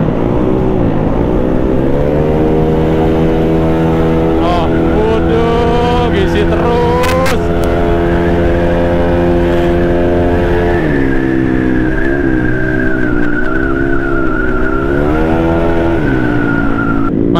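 A Honda BeAT scooter engine with a freshly tuned carburetor revs steadily and loudly up close, its pitch rising and falling through several throttle swells over about seventeen seconds.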